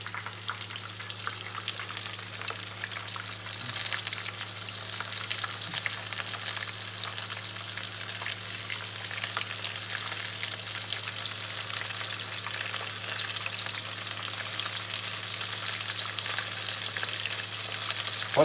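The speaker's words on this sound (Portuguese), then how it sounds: "estou fritando aqui" Breaded steak strips crackle and sizzle continuously in hot oil, a close, busy frying hiss with scattered pops over a low steady hum.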